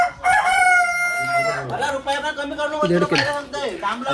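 A free-range village rooster, a big desi bird weighing over a kilo, crows in one long drawn-out call near the start, followed by fainter clucking as people keep talking nearby.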